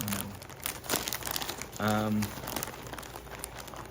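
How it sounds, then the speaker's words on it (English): Plastic packaging around a pack of yarn crinkles and rustles as it is opened, irregular crackling close by, mixed with someone talking over it. "I have to open this because, again, have to feel the yarn, right? And I'm sorry about the crinkles."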